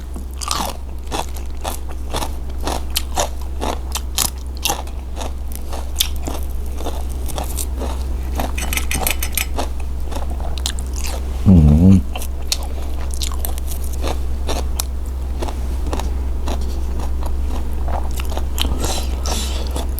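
Crunchy Thai beef tendon salad, som tin wua, is chewed close to the mic with steady crisp biting and crunching over a constant low hum, with a brief vocal murmur partway through.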